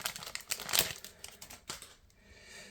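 A foil Lorcana Chapter 6 trading card booster pack torn open, giving close, loud crinkling and tearing wrapper noises in quick bursts that fade toward the end.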